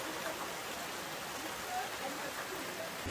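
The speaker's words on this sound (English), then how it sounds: "look at that. It's raining." Rain falling outdoors, a steady even hiss of drops with no breaks.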